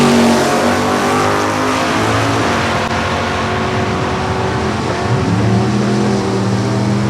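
A Mustang drag race car launches down the racetrack at Lucas Oil Raceway, its engine roaring loud and close, with a continuous rising drone and a shifting pitch holding for several seconds.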